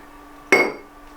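Glasses clink once in a toast, a single bright close strike that rings briefly and fades, with no talk.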